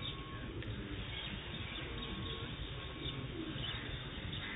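Sialkoti high-flyer pigeons coo softly in their loft, low repeated throaty calls over a steady hum of background noise, with a faint chirp or two in between.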